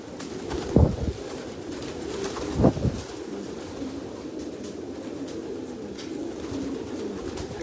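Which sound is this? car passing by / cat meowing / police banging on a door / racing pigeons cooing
racing pigeons cooing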